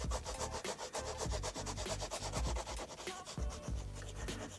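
Jane Davenport Power Pastels rubbed on scrap paper, a close, quiet scratchy scrubbing in quick repeated back-and-forth strokes with no talking.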